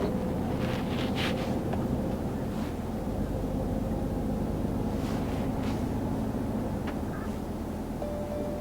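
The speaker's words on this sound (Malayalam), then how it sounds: "കാറ്റ് നല്ല രീതിയിൽ വീശുന്നുണ്ട്" Strong wind blows and buffets the microphone during a truck drive from Germany to Austria, a constant roaring rush over a low engine rumble, with a few brief gusty bursts.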